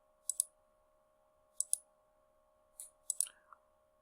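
A computer mouse clicks crisply and close in quick pairs and singles, with long quiet gaps between them over a faint steady electrical hum.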